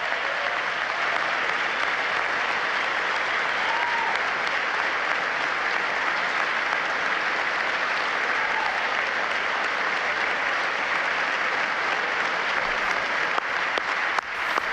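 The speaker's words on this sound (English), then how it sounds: "Even the Democrats had to applaud a little bit here" Sustained applause fills the chamber of the U.S. Congress, a dense, steady roar of many hands clapping without pause, heard from a distance.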